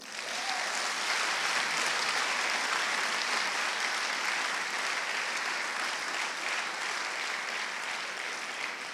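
A church congregation clapping during a worship service, a dense, steady wash of many hands applauding at once, sustained and even from start to finish with no pauses.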